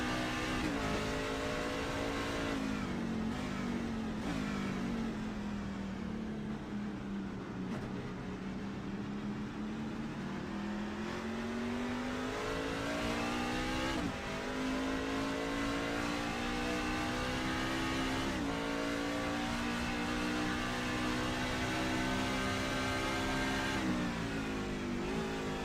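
A race truck's engine in a racing video game revs and drops through big downshifts on the Mid-Ohio circuit, a loud continuous drone rising, falling and jumping in pitch across the lap with no voices.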